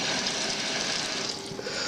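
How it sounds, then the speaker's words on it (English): Tap water runs steadily into a container for rinsing freshly picked strawberries, a close, constant rushing splash with no talk over it. "So we're going to get a little bit of water."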